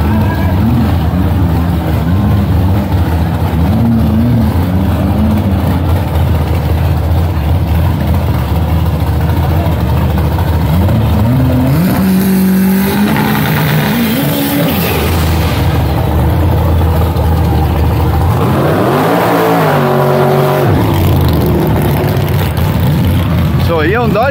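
A nitro-fed Dodge Polara V8 drag car revs loudly at a drag strip, its engine rising in pitch in two surges, under continuous commentator speech.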